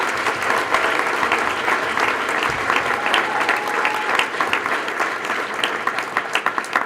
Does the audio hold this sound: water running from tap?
no